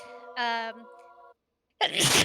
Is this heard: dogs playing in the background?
no